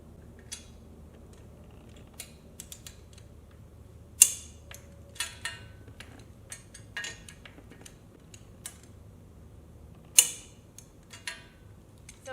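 A torque wrench tightens Yoshimura RS9T exhaust bolts on a 2022 Honda Grom RR to 18 foot-pounds. Sparse metallic clicks and ratcheting creaks sound over a quiet background, with two sharper clicks standing out.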